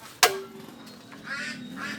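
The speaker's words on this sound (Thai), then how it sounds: "เสียง เป็ดร้องระงมเลยฮะหิวข้าวละนะค รับ" Hungry ducks quack in a garden. One loud, sharp quack sounds close by, then fainter overlapping calls carry on behind it.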